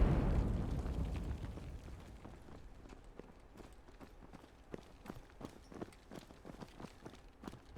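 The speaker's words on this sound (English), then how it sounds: "Nade's starting to come through." Grenades go off in a competitive 5v5 tournament video game match: a heavy low boom opens, then a rapid run of sharp cracks and thuds fires off through the rest, moderately loud with no talk.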